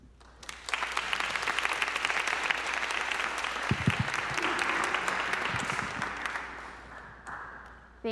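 A round of audience applause for the candidates at a housing justice forum swells quickly, holds as a dense patter of clapping for several seconds with a few voices inside, then fades out.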